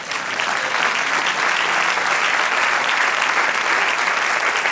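A church congregation applauds in a dense, sustained wash of many hands clapping that holds steady and loud throughout.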